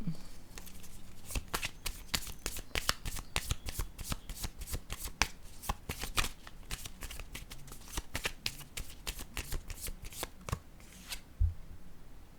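Tarot cards are shuffled and drawn up close, producing a long run of quick, crisp card flicks and riffles lasting about eleven seconds before they stop.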